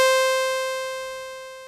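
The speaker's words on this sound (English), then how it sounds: "So the fundamental oscillator, which sounds like this." A single sustained tone from the fundamental oscillator of an Elektron Syntakt SWARM machine, a steady buzzy harmonic drone that slowly fades over under two seconds, heard alone.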